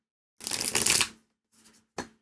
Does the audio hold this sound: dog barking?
no